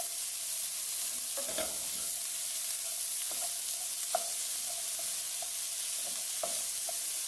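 Onions sizzle in a hot frying pan while being warmed until nearly transparent, a steady bright crackle with occasional soft stirring clicks over the top, close and continuous with no talking.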